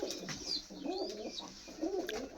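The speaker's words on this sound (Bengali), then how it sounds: "বিগ সাইজের পায়রা" Big-sized Kaldhoma pigeons cooing at a pigeon sale, soft throaty rolling coos repeating two or three times at close range, fairly quiet, with no talk over them.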